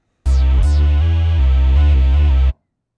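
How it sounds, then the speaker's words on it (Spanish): A loud Cyclop synthesizer tone plays alone, a rich buzzy sustained note with a couple of quick sweeping attacks at the start, then cuts off cleanly. "donde he colocado un sintetizador Cyclop."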